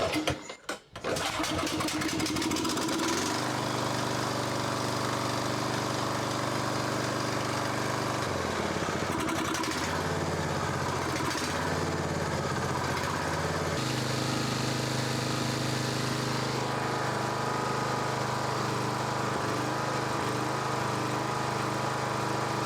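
A Toro lawn mower engine cranks with a short burst, catches, and settles into a steady loud running drone with a strong tonal hum, the pitch shifting briefly midway before holding at a constant idle.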